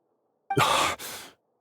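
Nahida, the Dendro Archon in Genshin Impact, lets out a single weak, breathy exhale that comes close and soft, dipping briefly in the middle before trailing off.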